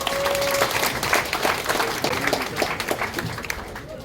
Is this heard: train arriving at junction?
no